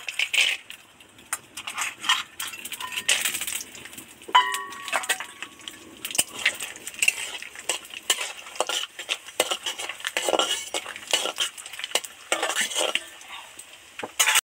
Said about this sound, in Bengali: এবার বড়িটা তেলের মধ্যে দিয়ে দেব।